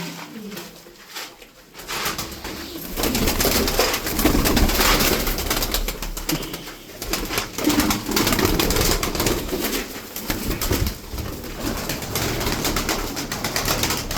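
Arab pigeons, some crested, coo and flutter close by in a loft, a dense steady layer of cooing and rustling that runs throughout with brief louder swells.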